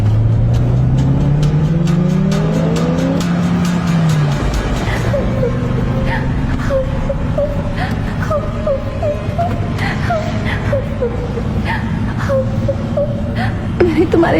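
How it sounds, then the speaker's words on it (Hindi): An animated car speeds up, its engine rising in pitch through a short acceleration before a spoken voice takes over and continues over fainter road noise. "सुमित गाड़ी की रफ्तार तेज करता है।"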